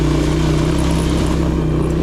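A 1984 Suzuki LT185 ATV engine roars loud and close with a steady droning hum as the throttle is held open, a dense continuous mechanical rumble.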